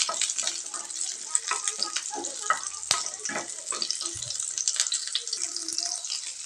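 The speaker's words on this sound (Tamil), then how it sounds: "சின்ன வெங்காயம் ஒரு ஆறு ஏழு போட்டுக்கலாங்க இது நல்லா வதங்கி வரட்டுங்க" Shallots and dried red chillies sauté in a pan with a loud, continuous close sizzle and occasional stirring scrapes, and a voice speaks faintly underneath.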